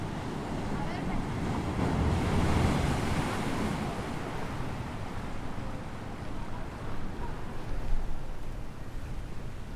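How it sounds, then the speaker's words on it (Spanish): Sea waves and wind along the Rapa Nui coast, with palm fronds stirring; a steady, broadband wash of surf and wind noise, fairly loud and continuous, swelling slightly around the middle. "el mar, el viento, las hojas de las palmeras en el viento, las olas, eso es lo característico"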